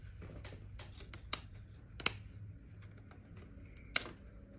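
Cotton fabric for a face mask is cut with scissors, a few quiet crisp snips and clicks spaced irregularly over a faint room hum, close by.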